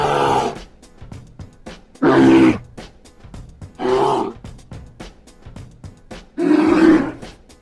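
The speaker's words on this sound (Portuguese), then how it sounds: "O urso é um mamífero grande e forte, carnívoro" A bear gives four separate loud, deep roaring growls at close range, each about half a second to a second long, with quiet breathy pauses between them.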